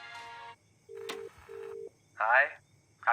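A woman dials a telephone to place a call, with steady tone beeps, a short click and a pause between them, then a brief burst of voice on the line, close and fairly quiet in a hushed room.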